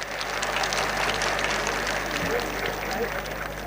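Crowd applause fills a hall at a Haryana government anniversary event, steady dense clapping throughout with a voice speaking over it.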